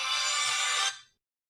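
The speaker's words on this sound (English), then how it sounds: "sorry about that phone call" A phone ringing, one short bright electronic ring burst under a second long that cuts off and fades quickly to silence.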